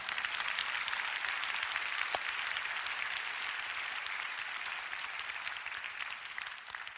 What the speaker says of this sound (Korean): 지금 여러분 박수 쳐주셨잖아요